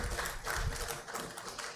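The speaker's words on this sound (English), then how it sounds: "A big round of applause for Mr." Brief audience applause at an international 6G connectivity workshop during a memento presentation, a dense patter of clapping heard fairly close for under two seconds.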